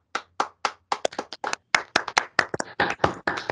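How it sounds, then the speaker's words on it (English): A small audience at a university business pitch competition claps for the presenters, a sparse scattering of distinct close hand claps that starts thin and grows busier, with no one speaking. "Let's give them another round of applause."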